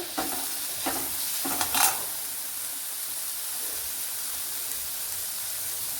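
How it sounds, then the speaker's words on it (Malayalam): About ten small shallots and a cut green chili fry in a pan for a green gram curry, a steady close sizzle with a few quick stirring scrapes during the first two seconds. "ഒരു പത്ത് കുഞ്ഞുള്ളി ഒരു പച്ചമുളക് കട്ട് ചെയ്ത് ചേർത്ത് കൊടുക്കുക"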